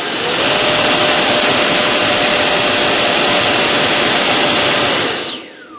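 A Freewing FA-18 90mm electric ducted fan, powered by a 25-volt battery, runs at throttle with a very loud, steady, high-pitched whine and roar, then spools down at the end.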